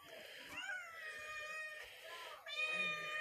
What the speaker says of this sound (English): Who the frick let a cat here?